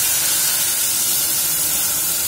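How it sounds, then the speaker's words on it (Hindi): A soured amchur (dried mango powder) mixture goes into a hot pan for a Himachali sour pumpkin gravy, giving a loud, steady, close hiss of steam that holds without a break. "इसके बाद इसके लिए जो मैंने आमचूर का घोल तैयार किया था इसे इसमें मिलाएं"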